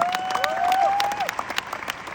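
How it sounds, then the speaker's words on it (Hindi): An audience at a corporate success-day event in Delhi breaks into applause: a continuous wash of many hands clapping, loud and close, with a bright whistle-like tone rising over it near the start before the clapping thins out. "एक बार दोबारा तालियां मारना प्लीज इस बात की।"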